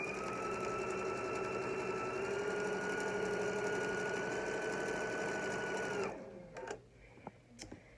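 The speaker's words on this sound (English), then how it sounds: "And then you sew along this curved edge." A sewing machine runs steadily along the curved edge of a fabric face mask, humming loud and close for about six seconds before stopping abruptly, followed by a few faint clicks and handling noises.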